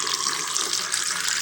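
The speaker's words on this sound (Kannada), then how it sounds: "ಬಿಸಿನೀರು ತೊಗೊಳ್ತಿದ್ದೀನಿ." Hot water pours steadily into a drinking glass at home, a continuous close liquid rush with no voices over it.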